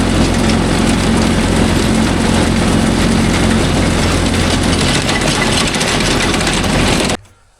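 A Mahindra Yuvo Tech Plus 585 4WD tractor engine runs steadily and loudly with a low, constant drone, set to work with a 42-blade rotavator, then cuts off abruptly near the end.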